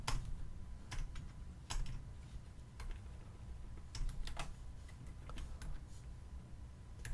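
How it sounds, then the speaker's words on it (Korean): Keys clack on a computer keyboard in quick irregular bursts, close and faint, over a low steady background, with no talking. "입력하신 내용을 써볼게요."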